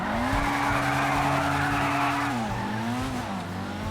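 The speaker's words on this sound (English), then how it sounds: "the car sounds like a beast now. It has a very distinctive high-pitched tone" A Pfister 811 supercar in GTA Online skids hard, its tires squealing loudly over a high-pitched engine tone that holds steady and then dips briefly near the end.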